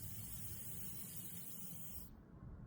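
Refrigerant hissing out of a mini split line as a fitting is loosened during a pressure test, a steady broad hiss that runs close and fairly loud for about two seconds before cutting off abruptly.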